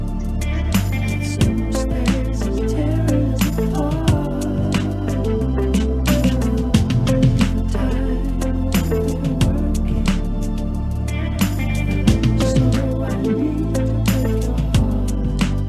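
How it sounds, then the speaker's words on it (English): A full song plays as a dry, unmixed recording straight from the artist, with steady drums, bass and sharp percussive hits running at a constant level throughout and no voice speaking over it. "So an unmixed sound just recorded dry"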